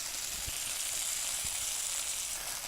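Mushrooms sizzling in a pan with chicken marsala, a steady close hiss of frying with a couple of soft low thumps as they are moved, continuous and even.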